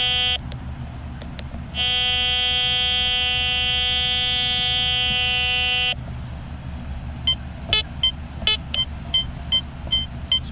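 A Fisher F5 metal detector at a local park sounds a deep-target signal: a sustained electronic buzzing tone, then a series of short, evenly spaced beeps near the mic.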